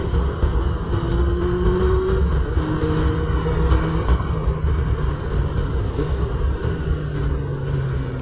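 A Honda CB400 cafe racer motorcycle rides along EDSA, its engine making a steady, loud rumbling drone with slight rises in pitch, and no one speaks.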